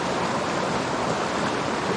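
A river flowing around a wader at roughly 105 to 110 cubic feet per second, a steady, close, full rush of water with no pauses and no voices.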